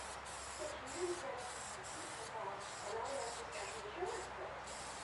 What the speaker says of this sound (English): Give them a good spray there.